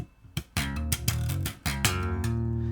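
Electric guitar hammer-ons on ringing strings in a riff, quick plucked attacks followed by sustained, overlapping notes that ring on between bursts, close and moderately loud.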